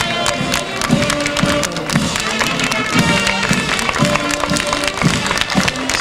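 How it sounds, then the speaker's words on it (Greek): Strong crowd applause at a 25 March military parade in Kavala, a dense wash of clapping that holds steady throughout, with a military band playing tonal notes beneath it. "Εισέρχονται στο χώρο της παρέλασης και ένα δυνατό χειροκρότημα."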